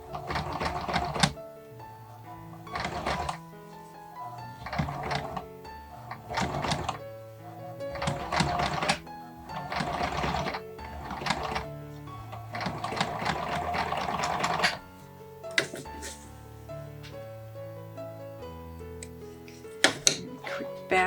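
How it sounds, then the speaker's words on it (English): A sewing machine back stitches a doll dress in repeated short bursts of rapid mechanical chatter, close up, with pauses and thunks between runs as the fabric is turned slowly. "very carefully and very slowly, I'm going to back stitch again"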